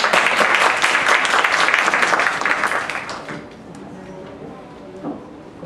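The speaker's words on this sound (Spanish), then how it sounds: "Los dejo con Uriel, un aplauso por favor." Audience applause at a talk on loss and psychoanalysis, dense clapping filling the room for about three seconds, then thinning out and fading to a quiet murmur with a few stray claps.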